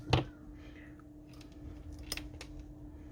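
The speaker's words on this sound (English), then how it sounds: "Strip some wire, maybe a little bit more," A car wire being stripped of its insulation during a DRL modification on a 2000s Ford Mondeo Mk3 ST220, with one sharp close snip near the start and a few lighter clicks and handling noises later over a steady low hum.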